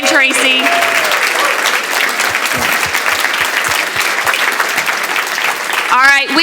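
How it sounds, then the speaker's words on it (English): Loud, sustained applause from an audience at a speaking event with a book signing. It starts and ends with brief bits of voice. "So can we give a huge, huge round of applause to Brian Tarici?"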